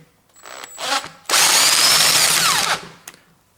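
A wrench loosening a Torx bolt in an engine block cylinder gives a loud, steady grinding rasp of about a second and a half, preceded by a few softer clicks and scrapes.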